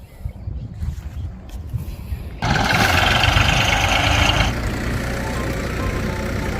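A tractor engine runs while a groundnut field is being prepared: a low, rough idle that rises sharply into a louder, brighter running note, then settles to a steady drone.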